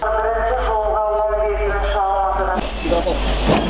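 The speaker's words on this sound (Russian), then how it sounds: "А вот и мой поезд." A train approaches with a rising rumble and rattle, bright high squeals joining near the end as it draws close; a voice carries on underneath.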